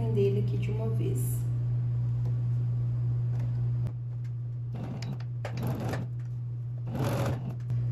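A sewing machine stitches the facing of an old-money style blouse, a steady low motor hum with short whirring bursts of stitching and light clicks near the end.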